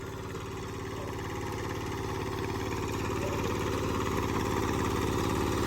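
A Kubota KRA75 7.5 hp diesel engine runs steadily near at hand with an even, throbbing mechanical drone. It stays loud and unbroken throughout, with no voices.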